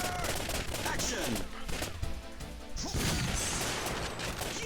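Rapid bursts of enemy gunfire fill the Time Crisis arcade shooter from 1995 by Namco, loud and continuous, with dense cracking shots and crashing impacts, under faint background game sounds.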